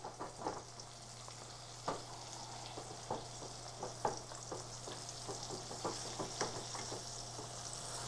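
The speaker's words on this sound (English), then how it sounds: "I just sort of use the rubber spatula to incorporate the cream into the potatoes" A rubber spatula folds cream into soft potato puree in a bowl, making quiet, wet, squelching scrapes in an irregular rhythm over a steady low hum, with no voices.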